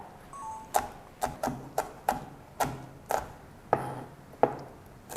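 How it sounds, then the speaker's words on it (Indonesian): A knife roughly chops chilies, shallots and tomatoes into large pieces on a board, giving about a dozen crisp, close knocks at an uneven pace with no talking. "Ini nanti saya akan potong kasar."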